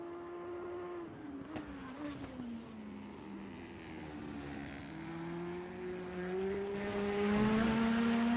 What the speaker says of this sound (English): It's got an interesting overrun sound on the outside